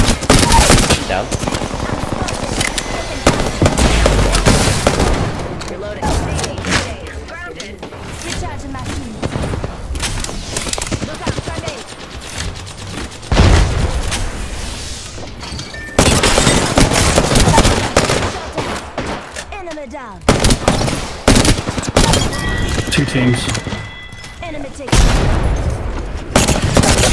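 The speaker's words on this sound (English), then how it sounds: "Listen up, I'm getting shot at" Automatic weapon fire in the video game Apex Legends, with loud bursts of rapid shots and heavy booms coming in waves across the clip, some close and some further off, under a player's voice and in-game callouts.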